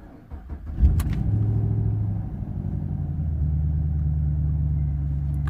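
A Vauxhall VXR8 with its engine warning light on starts up: a short cranking burst, then the engine catches and settles into a steady, deep idle rumble close by.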